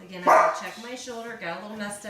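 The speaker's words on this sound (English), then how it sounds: "Dog's barking because people are coming in." A dog barks a few times nearby, partly under a person speaking close to the microphone.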